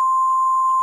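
A steady pure sine-wave test tone holds at one pitch under Unity audio compression with an optimized, lowered sample rate, loud and unbroken for under a second before cutting off with a brief click.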